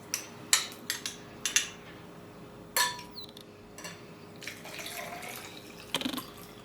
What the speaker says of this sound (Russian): Свеклу заливаю кипятком.